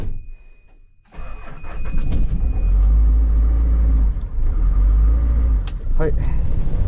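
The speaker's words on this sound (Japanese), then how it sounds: "まずねエンジンかかりました。" A diesel truck engine cranks after glow-plug preheating and catches, then settles into a loud, deep idle rumble close by, with a person's voice heard over it.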